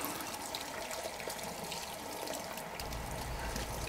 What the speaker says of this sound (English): we're going to turn on some water and we're going to rinse out our acrylic cup